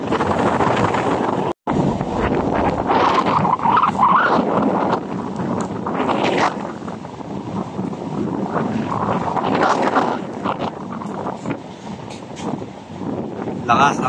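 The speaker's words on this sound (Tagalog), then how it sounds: "Lakas ng hangin, nakaulan." Strong gusty wind from Typhoon Pepito in Baguio roars continuously and loudly into the microphone, buffeting it with rumbling surges, briefly cutting out near the start.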